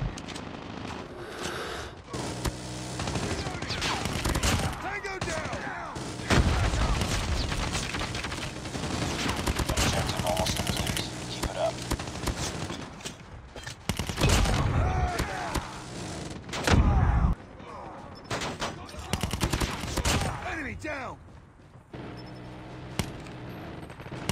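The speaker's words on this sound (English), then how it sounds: "sentry gun deployed" A sentry gun in Call of Duty Mobile on the Nuketown Russia map keeps up sustained automatic gunfire across the whole stretch, with dense bursts, loud thuds and short pauses, under occasional game voice callouts.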